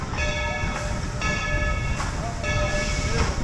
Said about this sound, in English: To our right's this train, the Dollywood Express.